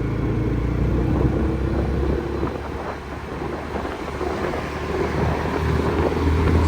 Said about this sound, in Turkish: Hava çok güzel yalnız birazcık rüzgarlı.